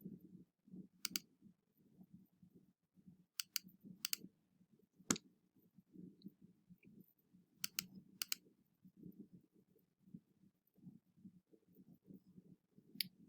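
Computer mouse clicks while re-trying photo downloads in Photoshop: a series of sharp, close single and double clicks spaced irregularly over a low steady room hum, with no talking.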